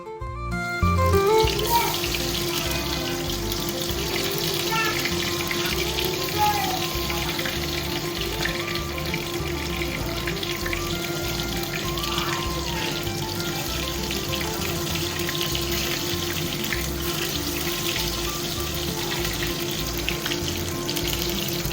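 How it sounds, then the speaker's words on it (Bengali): Eggplant chops fry in hot oil, a continuous dense sizzle and crackle that runs steadily and fairly close throughout, starting with a burst as the pieces go in. "এদিকে তেল গরম হয়ে গেছে, এবার মা বেগুনগুলো ভাজতে দিয়ে দিচ্ছে"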